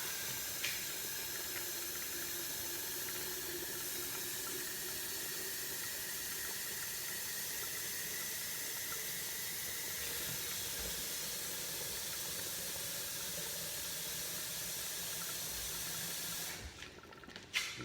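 Water heating on a stove for papaitan soup gives a steady, continuous hiss and bubbling rush with no talk, running unbroken until a brief clatter near the end.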